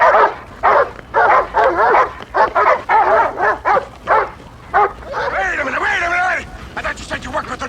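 Dogs bark and yip at prey they have treed in a 1975 television drama, a run of sharp, closely spaced barks with a whining stretch near the end, loud and up close.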